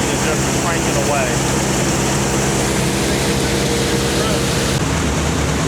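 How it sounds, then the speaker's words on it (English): Antique steam engine cranking away at a farm show, a steady low mechanical chugging with even rhythm, busy crowd murmur and machinery noise around it, voices talking nearby throughout. "Look at the steam engine just cranking away."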